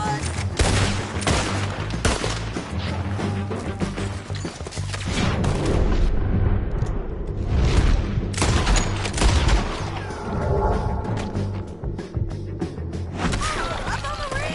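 Heavy volleys of gunfire in a Red Dead Redemption 2 shootout, repeated booming shots and crackling fusillades layered over a constant dense backdrop, while a voice talks intermittently over the battle.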